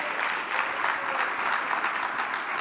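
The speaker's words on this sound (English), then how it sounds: "Please give another round of applause to Carmita." A summit audience in a conference hall applauds for a speaker, a dense, even wash of many hands clapping at moderate volume, continuous and without speech.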